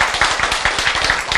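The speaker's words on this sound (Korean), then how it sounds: "박수." An audience claps through a lecture hall in a quick, dense run of overlapping claps. The applause is loud and close and carries no speech.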